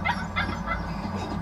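A few quick, high yips from a small German Shepherd puppy, close by, over a low background hum.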